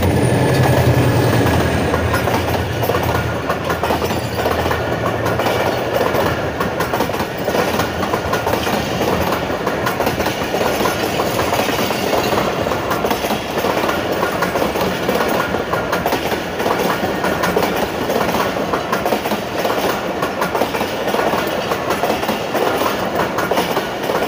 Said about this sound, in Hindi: पाकिस्तान एक्सप्रेस के गुजरने का खूबसूरत व्यू